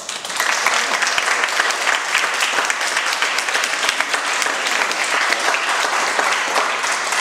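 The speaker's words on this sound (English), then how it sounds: "Please give a big applause to Carlos and Maxime." Audience applause at a university lecture welcoming the speakers, a thick, even wash of many hands clapping that holds steady throughout without a break.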